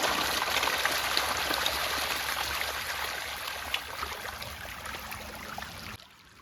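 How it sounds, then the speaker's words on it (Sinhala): Water flowing along a canal, a steady close rushing trickle with faint splashes that runs unbroken for several seconds before cutting off abruptly near the end. "ලස්සනට ජෝදෑල ගලාගෙන යන හැටි."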